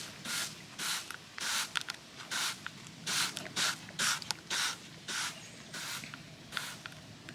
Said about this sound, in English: spray this down as well.